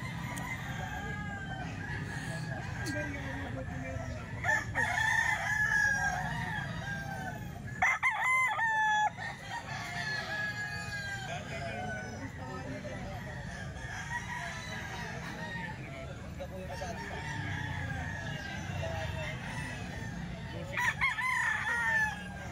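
A straight-comb Golden Boy Sweater gamefowl rooster crows several times, loud and close, over a steady bed of farmyard clucking and background noise, with faint human voices.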